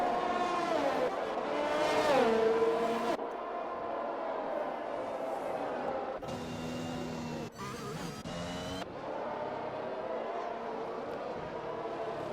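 F1 race cars battle wheel to wheel in a racing video game at the Chinese Grand Prix, their high-pitched engines whining and shifting pitch continuously, with abrupt cuts between camera views and commentary talking over the racing.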